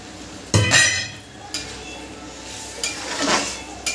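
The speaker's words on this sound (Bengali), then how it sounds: "এখন মশলাটা কষা হচ্ছে আজকে এটা তিল তেলে রান্না হচ্ছে" Spice masala with tomato is stir-fried in sesame oil for a mutton dish, with a metal spatula scraping and clinking against the pan in a few separate strokes over a low, steady background sizzle, close by.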